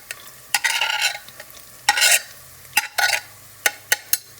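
Chopped chilies, ginger and garlic hitting a hot pan for a vegetarian curry, bursts of sizzling between sharp scraping stirs, loud and close, alone.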